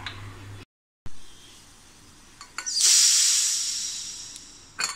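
A pressure cooker on a gas stove, cooking kharvas made from cow's colostrum, lets out a loud, hissing steam whistle that rises sharply, holds for about two seconds, then tapers off, with shorter puffs of steam before and after.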